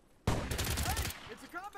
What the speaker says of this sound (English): it's a combat rifle